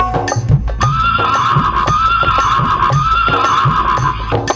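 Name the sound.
horse neighing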